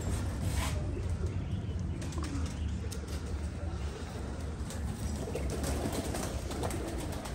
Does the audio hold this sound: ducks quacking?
no